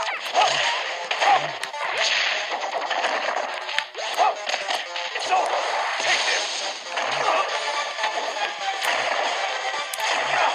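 Repeated sharp whip-like slapping hits land in quick succession in a Super Smash Bros match, mixed with game music and busy action sounds at a moderate level.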